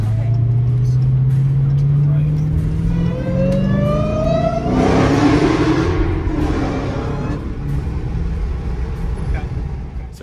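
A car engine revs up loudly, pitch climbing steadily before a roaring peak, then easing back to a rumbling drone.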